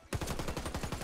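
Beretta ARX160 assault rifle hip-fired in the online shooter Warface, a rapid, loud burst of about a dozen evenly spaced automatic gunshots with no pause.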